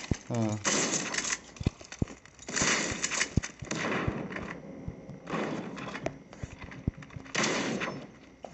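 In Call of Duty Mobile, rapid bursts of gunfire shoot through a wall in sharp repeated volleys with pauses between them, while a player talks over the shooting.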